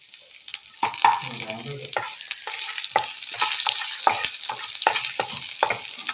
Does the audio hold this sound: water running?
no